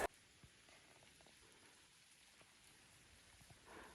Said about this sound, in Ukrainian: Дрібонький дощ пішов.